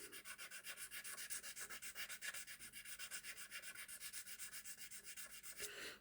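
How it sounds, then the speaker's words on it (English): Fine sandpaper rubs back and forth over the plastic body of a Lima Class 52 Western Gladiator model locomotive, a quick, even rhythm of soft scratchy strokes that continues close and uninterrupted. "we'll just go over it with a very fine sandpaper"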